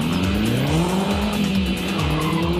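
Donkervoort sports car with 270 horsepower, engine revving through rapid gear changes with tire squeal, loud and close throughout.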